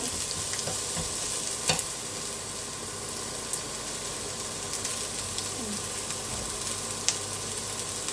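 Enoki mushrooms stir-fried dry in a pan: a steady, close sizzle with a few sharp utensil clicks against the pan, continuing without a break.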